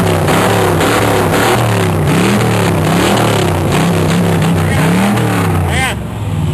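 A car engine with no mufflers idles and revs in a loud, raw, rumbling drone that rises and falls steadily, close by, with people talking over it.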